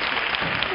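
A TV studio audience on a Spanish copla singing contest show claps in a brief, dense burst of applause, loud and continuous throughout.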